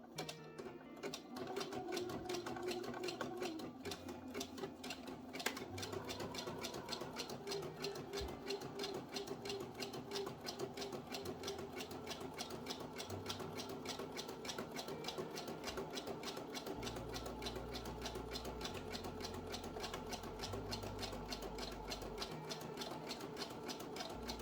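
A sewing machine running a zigzag stitch, its rapid steady needle clatter continuing alone for the whole stretch with slight changes in pace.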